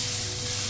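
Garlic sizzling in well-heated oil in a pan, a continuous bright hiss and crackle close up, brief and steady with no voice.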